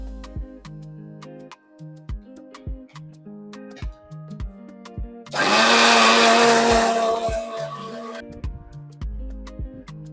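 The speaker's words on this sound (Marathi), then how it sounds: "हे अशा पद्धतीने एकदम बारीक वाटून घ्यायचंय आपल्याला." An electric mixer grinding chillies, ginger, garlic and coriander, a loud whirring roar for about three seconds, set between background music and ticks.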